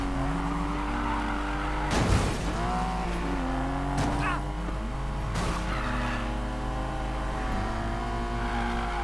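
Race car engine in Need for Speed: Payback, a steady droning roar with shifting pitch, interrupted by a few brief sharp bursts that may be tire or impact noises.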